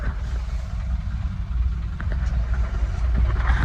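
Stalled traffic jam on the road near the Kumbh Mela at Prayagraj, a steady low engine rumble and idling hum with faint scattered knocks, no voices.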